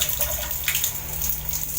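Water running from a tap in an older hotel room, a steady close splashing stream at moderate volume throughout, with no one speaking.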